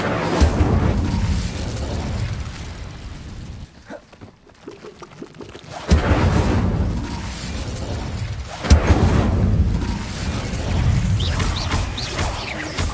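Incendio fire spell cast in Hogwarts Legacy on PS5, loud whooshing roars of flame and rumbling blasts in bursts, with a quieter gap between the eruptions.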